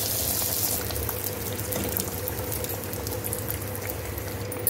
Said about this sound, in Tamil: எண்ணெய் காஞ்சிச்சு. இப்போ நம்ம கட் பண்ணி வச்சுருந்த டோனட்ஸ்லாம் வந்து போட்டுடலாம்